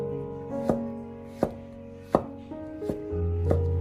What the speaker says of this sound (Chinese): 准备几个香菇切片， 然后切成香菇末。